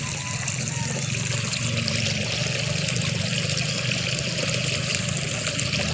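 Water flows steadily into a tilapia fish pond, a constant close rushing and trickling wash with no talk.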